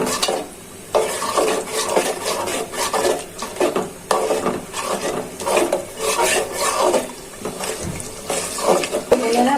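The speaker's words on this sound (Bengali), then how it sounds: "এখন মশলাটা ভালো করে কষিয়ে নিই।" Spice paste for Bengali-style beef curry with potatoes is stirred and fried in a pan. A steady scraping and stirring rasp runs throughout over a continuous close sizzle, with no talk.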